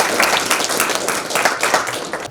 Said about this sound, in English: Can we have a round of applause to welcome them?